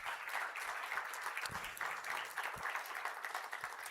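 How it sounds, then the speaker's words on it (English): A startup pitch final audience claps in a full, even round, heard faint and distant with a few soft low bumps and no talk. "Let's give these guys a round of applause again."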